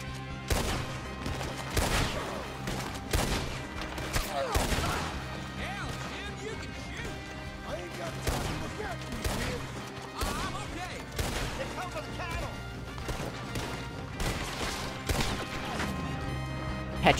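Repeated gunshots crack out in sharp, irregular bursts during a Red Dead Redemption 2 mission, with loud impacts scattered across the stretch and game voices mixed in.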